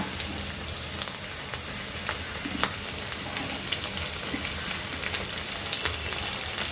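Tomato frying in a pan for vermicelli upma, a constant close sizzle dotted with small pops and occasional scrapes of stirring.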